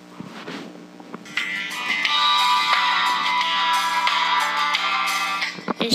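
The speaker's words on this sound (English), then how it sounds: "Bird chirp." A custom bird-chirp ringtone plays loudly from an iPod: a steady run of bright, repeating chirps starts after about a second and continues for around five seconds, with no talking.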